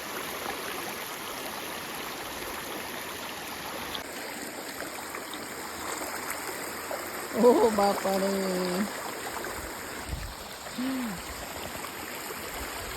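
Water rushes through the opened gates of a village dam in a steady, broad roar that fills the scene, while people exclaim and talk over it.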